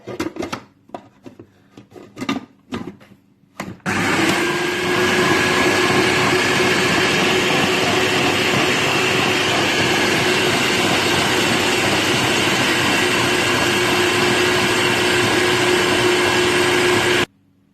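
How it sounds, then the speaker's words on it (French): Electric hand mixer beating a coconut vanilla ice cream mixture, a loud, steady whirring drone running continuously for most of the stretch after a few brief knocks and clatters at the start. "après une bonne minute au batteur, je vais tout mettre dans un bol"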